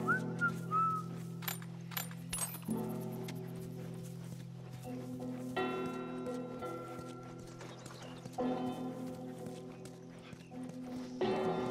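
A person whistles a few short, clear notes near the start, then horses' hooves clip-clop steadily with occasional whinnies and rustling over the rest.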